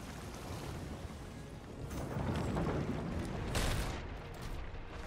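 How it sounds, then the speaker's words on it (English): Cannon fire from a ship in the pirate game Sea of Thieves booms out amid sloshing ocean waves, with two or three heavy blasts swelling in the middle and fading into surf noise. "Just saved by the cannon."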